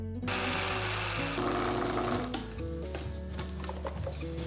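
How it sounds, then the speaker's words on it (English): A kitchen blender grinds a thick black sesame and walnut mooncake filling, its motor whining loudly and shifting pitch as the mixture churns, close and continuous with no voices. "So begin blending your ingredients in your blender"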